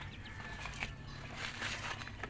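Soft, high peeping chirps from fourteen newly hatched ducklings repeat over a steady low hum, fairly quiet and continuous throughout.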